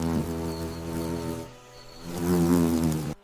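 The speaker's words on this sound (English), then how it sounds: "the wasp's wings slow, a desperate struggle against gravity until stillness takes hold" Wasp wings buzzing in a steady, close, loud drone with a low harmonic hum. It dips briefly midway, swells again, then cuts off abruptly at the end.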